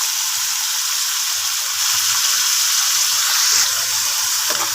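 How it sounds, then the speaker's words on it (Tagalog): Chopped bottle gourd (upo) sizzles in a pan with sautéed onion and garlic, a loud steady frying hiss close by with faint stirring noises and no talking. "Ginisa na natin ang ating sibuyas. At bawang."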